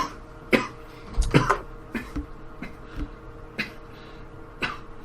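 A man gives several sharp, dry coughs, the loudest cluster early, followed by a few more scattered hacks and throat clears spaced across the moment in a quiet room.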